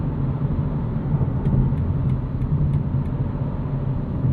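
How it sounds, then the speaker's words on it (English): Cabin of a 2025 BMW M2 with a 473hp six-speed manual on the move: steady broadband road and tire roar with outside noise and a low engine drone, constant and fairly loud, no talking. "A little bit of noise from really everything, the tires, outside noise"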